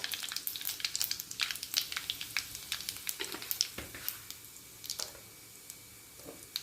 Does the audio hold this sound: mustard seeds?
yes